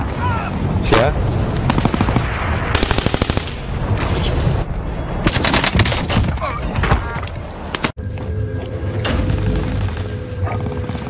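Dense Warzone video game combat: continuous rapid gunfire and heavy airstrike explosions booming loud and close, with a sharp blast near the end, while voices speak over the action.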